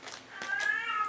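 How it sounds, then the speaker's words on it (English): A pet cat meows indoors, one drawn-out, wavering meow with a couple of short soft sounds before it, close by and moderately loud with no talking over it. "Oh, you hear my cat?"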